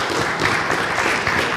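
A brief burst of dense, even audience applause at a university engineering award ceremony, filling the whole moment without any talking.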